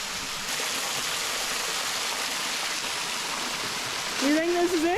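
Steady broadband rush of a stream flowing toward a waterfall in the Arkansas wilderness on a cold, rainy day, constant and close, with a voice speaking briefly near the end.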